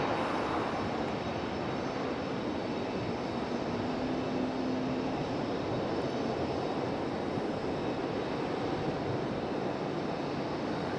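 JetBlue airliner departing Raleigh Durham International Airport, a broad, continuous jet engine roar that holds steady and fairly loud throughout.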